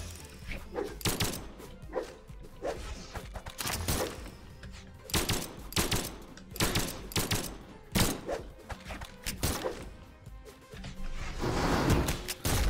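Repeated gunfire bursts in Brawlhalla gameplay, sharp broadband shots clustered in irregular volleys and single cracks across the span, fairly loud and close with no talking.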